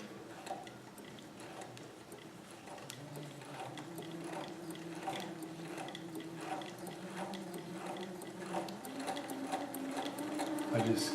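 A sewing machine stitches a Hawaiian shirt from Simplicity pattern 3852, its needle chattering in a steady rhythmic run with occasional faint mechanical ticks, slowly building in loudness.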